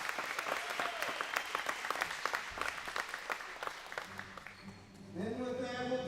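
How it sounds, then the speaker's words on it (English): A crowd applauds at a girls' high school volleyball game in a gym, with steady clapping that carries for several seconds, then fades as a voice speaks over an announcement system. "let's have a big round of applause again in support of Mrs."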